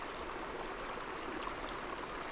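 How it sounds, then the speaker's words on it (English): A small mountain stream crosses a rocky trail in the Pecos Wilderness, giving a steady, close, even rushing and trickling flow with no talking. "Nice little stream."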